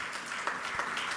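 A church congregation applauds together, a dense wash of many hands clapping steadily at moderate distance, without voices.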